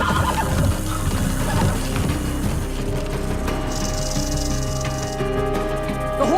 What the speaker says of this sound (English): The horse! No, you can't catch him.